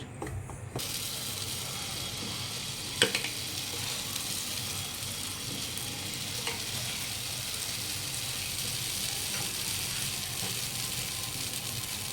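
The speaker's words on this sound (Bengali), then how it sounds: "প্যানকেকগুলো এবার আমি ভেজে নেব" Pancakes fry in a covered pan on a gas stove at medium heat, giving a steady, close hiss with an occasional faint click or tap over it.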